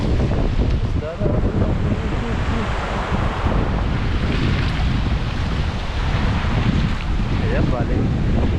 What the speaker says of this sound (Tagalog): Sarap ng hangin. Fresh na fresh.